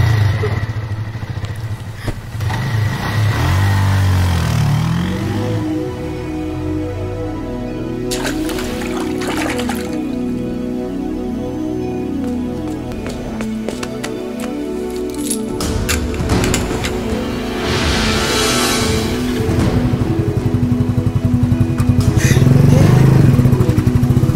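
A motorcycle engine runs loudly and close throughout, its pitch rising and falling as it revs and rides along.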